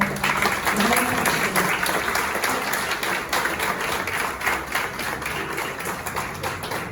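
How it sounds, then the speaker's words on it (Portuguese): Steady applause from an audience at an academy induction ceremony, dense continuous clapping at an even level throughout, with some crowd murmur beneath it. "Uma salva de palmas para nós."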